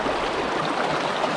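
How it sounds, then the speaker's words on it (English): Water rushes steadily through a gold sluice box set in a river, a dense, continuous close-up roar of flowing water with no pauses and no voices. "what I did is I slowed the sluice down."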